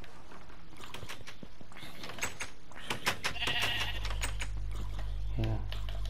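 Sheep bleat a few times in the video game Minecraft amid clicky keyboard-like tapping and a low steady hum, while a person talks over the scene.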